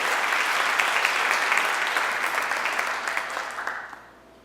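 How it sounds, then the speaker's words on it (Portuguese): Steady congregation applause fills a church for several seconds after a sermon prompt, dense and even clapping that fades out at the end. "Muito bem, vamos aplaudir o Senhor."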